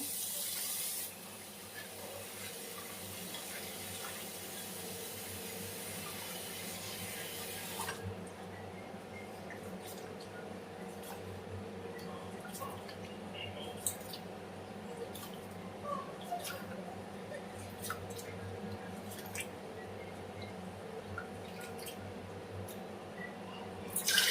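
Rice rinsed in water at a kitchen sink, with a steady running tap hiss at first, then softer swishing water and scattered small drips and splashes throughout, no talk.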